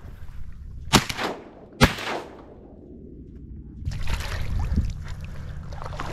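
Two loud, close shotgun blasts ring out a second apart from a boat while duck hunting in South Florida, each with a long fading echo, followed by a low rumble of wind or motor noise.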